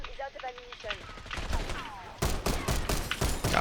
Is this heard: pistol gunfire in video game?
yes